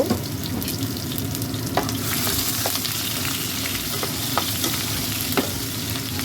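Two tablespoons of chopped garlic fry in hot oil for a restaurant-style tarka dal, giving a steady close sizzle with occasional stirring clicks and no talk.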